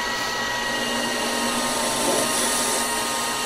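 A cutting torch blows a 2-inch hole through metal about half an inch thick in a pole barn machine shop, producing a loud, steady, close roaring hiss that continues without a break.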